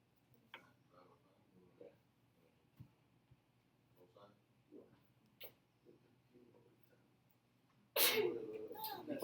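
A single sharp sneeze bursts out loudly in a classroom near the end, after quiet stretches of faint murmuring and small ticks in the room.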